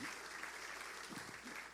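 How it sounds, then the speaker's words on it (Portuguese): Sustained applause from a church congregation, steady clapping filling the whole moment at an even level. "Bruno, vai aplaudir, aplauda forte, né, Brunão?"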